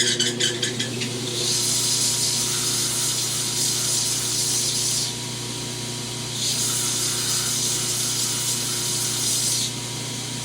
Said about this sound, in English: I'll come over here on this belt sander and chamfer this edge